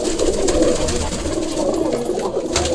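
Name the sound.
pigeons cooing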